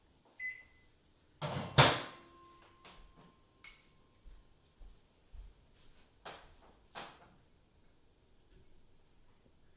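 A microwave oven used to warm homemade dumpling filling gives a few close clunks of its door and handling, a short beep and a brief hum, then quieter kitchen clatter.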